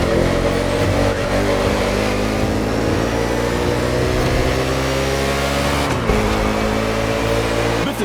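NASCAR stock cars race through an urban Honolulu street circuit in The Crew Motorfest video game, with a loud, continuous engine roar and steady high revving throughout and no talking.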